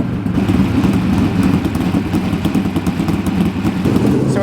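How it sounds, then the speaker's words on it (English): Dirt race car engine warming up before hot laps and qualifying at a High Limit Racing one-lane track, a steady loud idle with a mid-pitched rumble and small throttle swells throughout. "We're just getting the car all warmed up so we can go on track and get to full speed."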